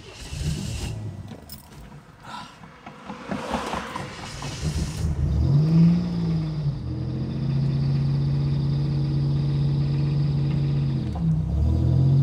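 Buick Grand National engine labouring up a hill in first gear: scraping, clunking mechanical noises at first, then a strained, droning engine note rising and holding steady, close and fairly loud, dipping briefly near the end.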